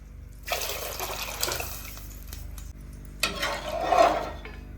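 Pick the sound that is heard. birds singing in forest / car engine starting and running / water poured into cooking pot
water poured into cooking pot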